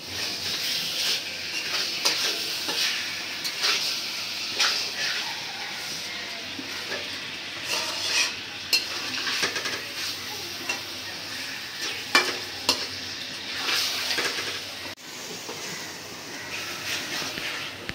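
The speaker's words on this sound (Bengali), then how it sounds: "এখন আমি মাখানো মাছটা এই তেল পেঁয়াজের উপরে দিয়ে কষাই নিব।" Marinated fish pieces are stir-fried in hot oil over browned onions, giving a steady close sizzle broken by scraping and clattering stirring strokes throughout, with no talking.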